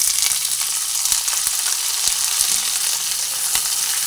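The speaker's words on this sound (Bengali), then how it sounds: "কুচানো পেঁয়াজগুলো ভেজে নেব তেলের মধ্যে দিয়ে।" Chopped onions frying in hot oil for a cream chicken dish, a steady, loud, bright sizzle running unbroken throughout with faint stirring taps underneath and no voices.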